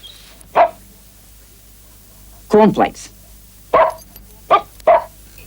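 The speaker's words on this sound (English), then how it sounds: "Keep practicing, fella. Good dog." A dog barks in five sharp, separate bursts spaced over several seconds, loud and close against a quiet background, with a brief spoken word in between.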